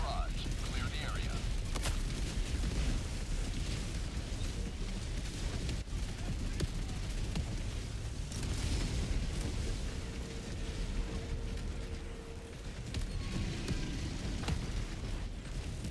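Orbital barrage explosions in a multiplayer shooter game, a dense stretch of rumbling booms and rapid gunfire-like blasts running continuously at steady loudness, with voices occasionally in the mix.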